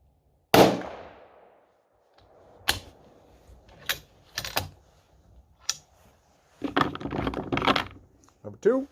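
A .308 rifle, hand-loaded one round at a time, fires a single loud, sharp shot whose ringing tail fades over about a second, followed by scattered clicks and handling knocks and a denser burst of rattling near the end.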